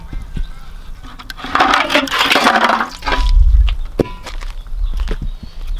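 Volkswagen Beetle wheels scrubbed and rinsed with water, a broad splashing, rushing wash swelling for a couple of seconds amid scattered knocks and rubbing.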